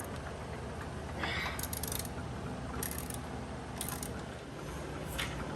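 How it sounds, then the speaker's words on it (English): A ratchet wrench works a coilover bolt loose on a Volkswagen Passat, its pawl clicking in steady back-and-forth bursts of rapid ticks over a constant low background hum, close by and with no talk. "Hold it, now ratchet it the other way."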